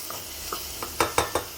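Chicken and sausage pieces browning in a pot for a one-pot stew, a soft sizzle beneath a quick series of four or five sharp spoon clacks against the pot as the meat is broken apart.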